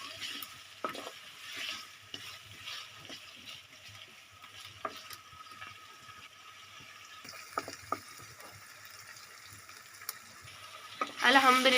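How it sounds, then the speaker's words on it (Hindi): Potatoes fry with garlic-ginger paste in ghee, giving a faint, soft sizzle broken by occasional spoon scrapes and clinks against the pan, with a louder burst of stirring at the end. "आलू के साथ 2 मिनट भून लेंगे लहसुन अदरक के पेस्ट।"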